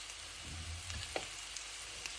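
Mustard seeds, garlic, turmeric and chilli flakes sauté in hot oil in a pan for green apple chutney, a soft, steady, quiet sizzle with a few faint pops and no voices.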